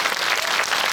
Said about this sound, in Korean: 두 분께 다시 한번 큰 박수 보내주시기 바랍니다